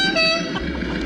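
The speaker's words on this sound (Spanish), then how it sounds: "Ahora lo veremos cómo toca ese claxon característico de esos coches antiguos" Antique-style car horn from an RC crawler sound module, the kind heard on old Power Wagon-era vehicles, sounding as a steady nasal toot for about half a second, then dropping into a low engine-like hum.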